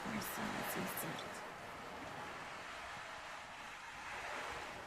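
Soft ocean surf washing gently onto a sandy shore, a steady hushing wash with light breeze, moderately near and continuous, with faint speech-like murmur over it.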